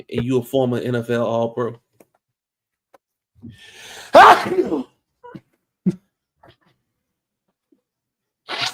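Someone speaks briefly, then after a pause a single sharp, loud sneeze bursts out on its own in an otherwise quiet room.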